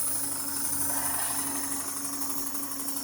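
A Wilesco D32 live steam engine runs steadily, giving a continuous, even mechanical hum and whir with a faint rapid rhythmic beat from the moving parts, close by and unbroken throughout.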